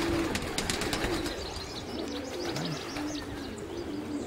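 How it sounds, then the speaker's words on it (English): Pigeons in a backyard coop housing several types of birds, giving soft repeated coos with a few scattered chirps over steady outdoor background noise, with no talking. "You got 4 different type of birds in there."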